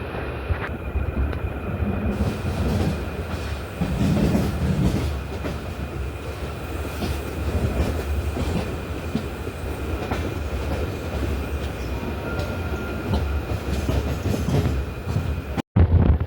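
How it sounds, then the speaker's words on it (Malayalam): A Jan Shatabdi passenger train in Kerala rumbles along at speed, a steady loud roar with rhythmic clatter of wheels on track, heard from inside a carriage. "ട്രെയിൻ ഇപ്പോൾ അത്യാവശ്യം നല്ല സ്പീഡിലാണ് പോകുന്നത്"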